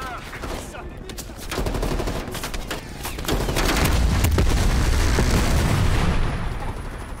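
Heavy helicopter-mounted gunfire in a Cold War-era combat mission of Call of Duty Black Ops Cold War, dense rapid bursts swelling into a loud sustained barrage with booming impacts, no talk over it.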